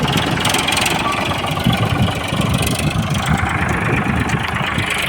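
A Sonalika tractor engine runs steadily nearby on a farm, a loud, continuous chugging idle with a low knocking rumble that holds from start to finish.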